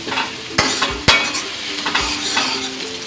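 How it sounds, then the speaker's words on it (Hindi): Garlic and chilies fry in a pan for chana dal, a steady soft sizzle with a spoon stirring and a couple of sharp clinks against the metal, close and without talk. "और डालेंगे लहसुन और मिर्ची। थोड़ा सा भून लीजिए।"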